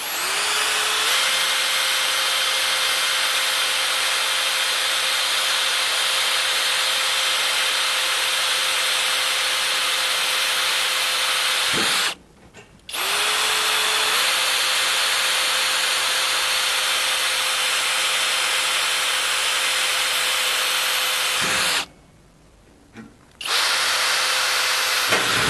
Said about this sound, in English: So continue drilling it